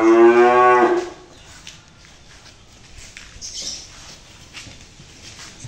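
A seven-month-old calf with rare colouring gives one loud, close moo lasting about a second, followed by quieter ambient farm noise.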